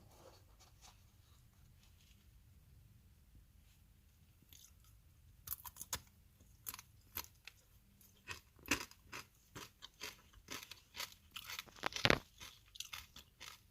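Chocolate-covered Thai coconut chips crunch between the teeth, quiet at first, then a run of crisp, irregular bites and chewing crackles growing louder and closer.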